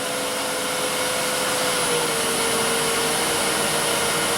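A wood lathe spins an acrylic bottle stopper at about 2,500 RPM, giving a loud, constant high-pitched whine and hiss with a steady tone throughout.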